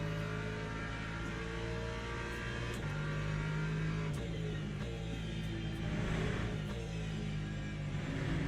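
An LMP2 prototype race car in the Le Mans Ultimate racing game drones past on the left during a wet European Le Mans Series race at Imola, a continuous, fairly quiet engine whine that swells slightly as it goes by.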